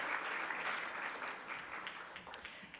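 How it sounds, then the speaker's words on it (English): An audience at an award and scholarship fundraising event applauds in a dense, even round of clapping heard from a distance, slowly thinning toward the end. "Let's give them a round of applause for doing this."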